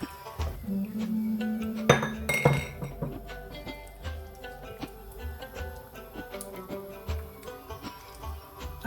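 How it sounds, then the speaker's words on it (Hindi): Spoon stirring milk into a sauce in a pan for lasagne, with continuous scraping and light clinks of metal against the pan, close and steady, interrupted by a few sharper knocks. "थोड़ा थोड़ा करके दूध डालते जाएंगे"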